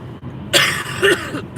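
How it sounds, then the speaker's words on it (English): A woman coughs hard several times in close succession while driving, loud harsh bursts close to the microphone over a low steady car interior rumble. "especially with me coughing my lungs out"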